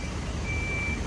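A truck reversing gives out a steady, continuous reversing beep tone over low engine rumble, close and fairly loud.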